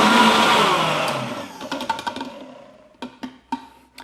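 A blender whirs through pasta sauce in a kitchen, starting as a loud steady grinding roar that winds down and fades, followed by a few sharp knocks and clicks near the end.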